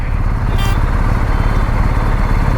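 A BMW R1250 GSA with its boxer twin runs steadily at close range, a loud continuous low engine drone with no breaks and no voices.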